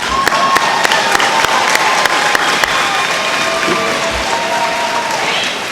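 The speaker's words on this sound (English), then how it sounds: "give yourselves a round of applause, you made it." A graduation crowd applauds loudly and continuously, a thick wash of clapping with a few sharper claps standing out near the front, with no clear speech over it.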